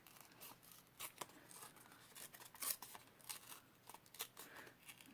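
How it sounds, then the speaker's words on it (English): A strip of Stampin' Up Crumb Cake cardstock is torn by hand in short, faint ripping bursts with small crinkles, quiet and close. "And we are just going to tear it."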